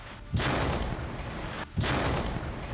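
An Israeli air strike blows up a building packed with explosives, a weapons depot in Jenin: two heavy booming blasts about a second and a half apart, each followed by a loud roaring rumble.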